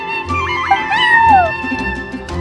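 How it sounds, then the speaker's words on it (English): A close, clear cat meow in Genshin Impact with a rising-then-falling pitch, sounding over a steady tonal background with soft low hum. "that's my neighbor's cat"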